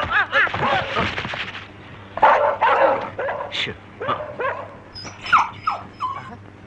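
A dog barks, yips and whimpers repeatedly at close range during a comic scene, mixed with frantic shouting and pleas for help, the voices and animal noises overlapping in bursts throughout.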